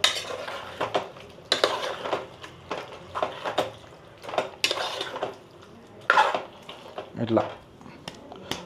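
A spoon stirring boiling mutton boti curry in a metal pot, with irregular close clanks and scrapes against the pot and a lid being handled, under a person talking.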